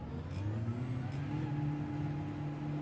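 A racing car engine in the game Gran Turismo 7 at Interlagos drones steadily at moderate loudness, a continuous hum with slight pitch shifts, no voices.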